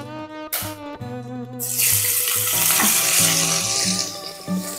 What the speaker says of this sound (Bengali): পেঁয়াজটাকে এবারে ভালো করে ভাজবো।